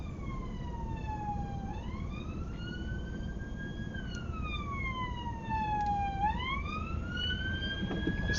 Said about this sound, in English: So now there's a police car, bus.